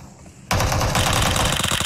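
Uzi submachine gun in the battle royale game PUBG Mobile, a sudden loud sustained burst of rapid automatic fire that begins after a quiet half second and runs unbroken to the end.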